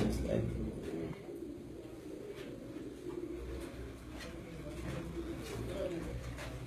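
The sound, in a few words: Punjab champion breed pigeons cooing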